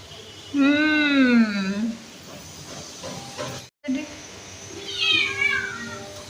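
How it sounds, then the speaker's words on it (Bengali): A cat meows loudly at close range in a home, a long rising-falling call, followed after a pause by a second, shorter meow; faint background noise and a brief dropout separate the calls. "ওই যে একটা দৌড় মারছে, মেয়াও করছে"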